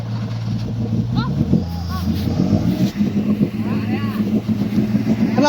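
An offroad vehicle's engine revs up and down through its exhaust in loud, rough bursts, close by, while people talk over it.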